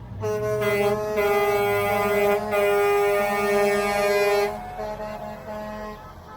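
A loud truck air horn blasts twice in long sustained honks, close by at a street rally, with traffic rumble underneath and a brief gap between blasts.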